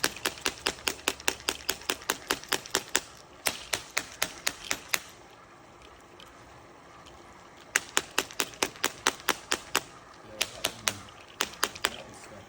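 Sharp, evenly spaced taps on a well pump filter housing ring out in steady bursts, pausing briefly before resuming, close and loud, with a faint hum and water flow underneath.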